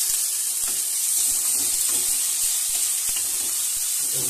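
Chopped tomatoes sizzling in a pan of frying onion and garlic, a continuous bright hiss with faint stirring taps, close by and steady, no voices.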